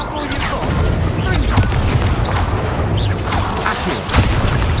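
Incendio fire spell cast in Hogwarts Legacy on PS5, a dense, continuous roar of booming blasts and whooshing bursts filling the scene with crashes, mixed with faint game voices.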